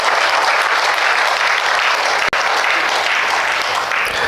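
Audience applause at an alumni awards ceremony, a dense, steady roar of clapping from a large crowd that fills the whole stretch with only a brief dip midway.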